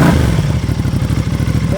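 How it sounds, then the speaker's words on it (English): An Aprilia Tuono 660 running an aftermarket eBay exhaust idles right after start-up with a loud, throaty, evenly pulsing beat and a light mechanical clatter, close by and without talk. "let's do a little exhaust clip real quick"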